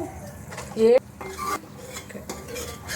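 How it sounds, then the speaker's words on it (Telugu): A spoon stirs turmeric and chili powder into a pot of chickpea curry. Close, intermittent scrapes and clinks against the pot come with a brief squeaky tone partway through. "పసుపు కారం వేసుకొని కలుపుకొని"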